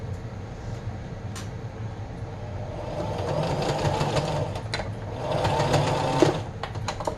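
Sewing machine stitching two ends of t-shirt fabric together, a close, steady mechanical whirr that speeds up and grows louder in two long runs, with brief clicks between them and no talk.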